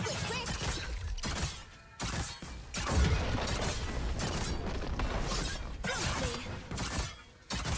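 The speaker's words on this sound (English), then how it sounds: "Blue Team's turret has been destroyed." A turret being destroyed in the League of Legends video game: crashing, shattering impacts and mechanical clatter layered over busy, continuous game sound effects at steady loudness.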